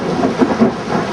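Loud thunder rolls and rumbles from lightning strikes during a storm with tornado warnings, high winds and heavy rain, the deep booms swelling twice over a steady wash of rainfall, with no voices.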